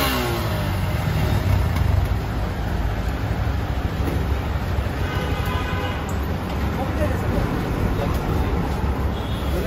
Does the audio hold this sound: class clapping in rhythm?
no